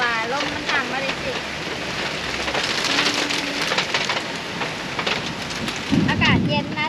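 Steady heavy rain hisses and patters on surfaces, with gusts of wind and a few faint voices in the background.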